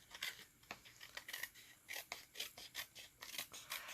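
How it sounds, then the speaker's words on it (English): Scissors cut through paper card in a run of short, crisp snips at close range, with quick irregular blade strokes and no talking. "so now I'm going to take my scissors."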